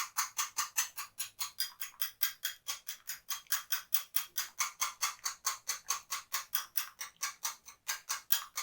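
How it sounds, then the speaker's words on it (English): An egg and vanilla essence are whisked in a bowl, producing a rapid, regular series of light clicking strokes, about four per second, close and fairly quiet, with no talking. "So let's beat that together,"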